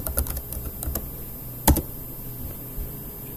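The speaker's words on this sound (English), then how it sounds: "I can type the information in here." Typing on a computer keyboard while entering text into a web-based Go code editor: a quiet run of soft key clicks with one louder keystroke midway, no talking.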